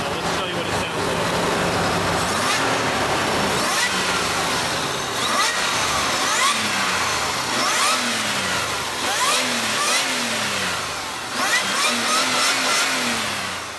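A supercharged Toyota 4Runner TRD on its stock exhaust starts up and revs repeatedly, with rising and falling engine sweeps heard close and loud while a voice talks intermittently.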